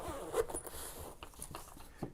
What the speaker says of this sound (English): It has a zipper here